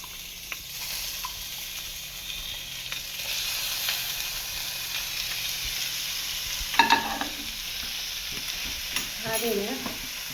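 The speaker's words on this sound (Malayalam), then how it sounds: "ഇനി നമുക്ക് ചെയ്യേണ്ടത് ഈ സാധനം എടുത്ത് നമുക്ക് അടുപ്പത്ത് വയ്ക്കണം. ചിക്കൻ നമുക്ക് ഒന്ന് വേവിച്ചെടുക്കണം." Chicken being cooked in a pan on the stove for Kerala-style chicken thoran, a steady close frying sizzle with occasional stirring and scraping clatter.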